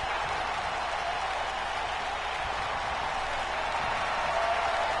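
Steady crowd cheering and applause from a WWE 2K20 wrestling video game match, a continuous broad roar at even loudness throughout with no voices over it.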